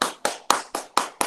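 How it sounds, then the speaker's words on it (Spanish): Sharp, evenly spaced claps ring out six times in quick succession, each one crisp and fairly loud, like a few hands clapping together at a formal event. "Un aplauso, por favor."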